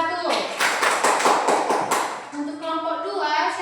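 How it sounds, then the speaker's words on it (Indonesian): Schoolchildren in a primary classroom clap for the first group, a dense burst of fast, close claps lasting a couple of seconds, fading as voices take over. "Oke, tepuk tangan untuk kelompok 1."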